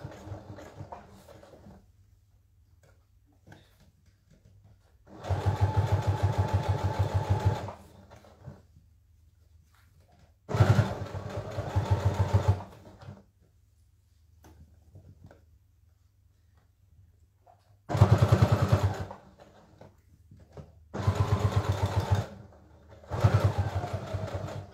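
An industrial sewing machine stitches boot leather in several separate bursts of steady rapid mechanical whirring, each a few seconds long, with quiet pauses between them.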